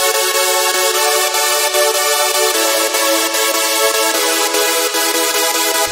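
Dense, bright synth chords layered from Silent One and Nexus in a remix, sustained and loud with rhythmic stabs following the melody's rhythm, changing harmony every couple of seconds, no voices.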